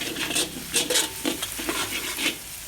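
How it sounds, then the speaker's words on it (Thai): Garlic sizzles in hot oil in a large wok while a utensil stirs and scrapes in steady strokes, a busy crackling hiss throughout. "กระเทียมเจียวนะครับกระเทียมเจียว เดี๋ยว เจียวให้หอมก่อนนะครับ"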